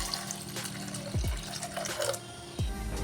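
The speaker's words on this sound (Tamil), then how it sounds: "குக்கரில் சேர்த்துட்டு அது கூடவே உருளைக்கிழங்கு மூழ்கிற அளவுக்கு தண்ணி சேர்த்துக்கிட்டா போதும்" Water pours into a pressure cooker holding potatoes in a home kitchen while sambar and a potato fry are being made, a steady close running splash with a few sharp metallic knocks against the pot.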